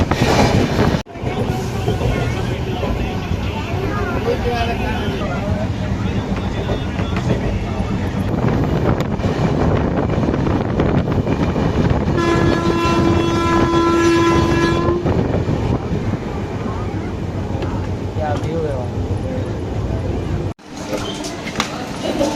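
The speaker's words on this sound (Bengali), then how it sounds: "তো ট্রেনটাও ছেড়ে দিয়েছে, জঙ্গলের ধারে ধারে যাচ্ছে আপাতত ট্রেনটা।" A train running along the edge of a forest near Ranchi, steady loud rumble and clatter of the carriages throughout, with a long horn blast partway through and brief wind buffeting at the microphone.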